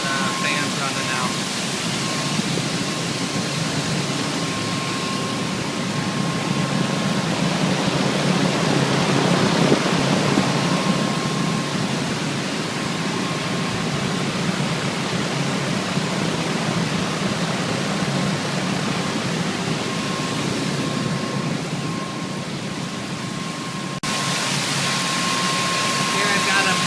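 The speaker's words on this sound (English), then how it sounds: "Here I've got the water running in there. You can kind of see it falling, cascading." Water cascades through a running industrial cooling tower with its fans going, making a steady, loud, broadband rushing roar that continues unbroken throughout.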